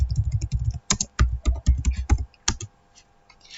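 Rapid clicking keystrokes on a computer keyboard while a MikroTik router command is entered, a quick run of close, distinct taps that thins out into a few scattered presses.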